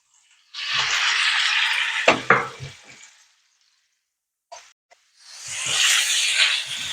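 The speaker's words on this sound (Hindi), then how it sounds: "और अब मैं चिकन को फ्राई करूंगी।" Small chicken pieces fry with garlic and green chilies, giving a loud, close sizzle that surges, fades to silence with a couple of soft plops, then swells again as more goes in.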